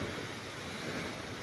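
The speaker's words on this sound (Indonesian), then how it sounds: "kedengaran ya gemuruh lautnya" Sea waves roaring against rocky coral shoreline at Popoh beach in Tulungagung, a steady broadband rumble of surf with wind noise, continuous and fairly loud with no voices.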